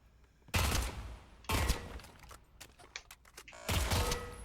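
Gunfire in the VR shooter Pavlov: three loud, close bursts of rapid shots with short gaps between them, a few sharp mechanical clicks in the pauses.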